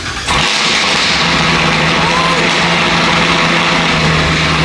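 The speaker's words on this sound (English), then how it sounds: "There's a Hennessy ZL1 in here, so I'm gonna record when he starts it." A Hennessey ZL1 Camaro starts up indoors at a factory, a loud engine catching at once and settling into a steady, dense roar that fills the space.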